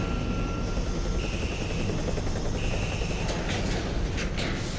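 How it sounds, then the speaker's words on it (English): A helicopter comes down onto a landing pad in The Bureau: XCOM Declassified, its rotors and engine making a loud, steady roar with brief high whines near the end. "Turning the rotors off when the helicopter's coming down the pad."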